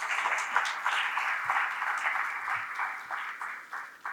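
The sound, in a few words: audience applause after a keynote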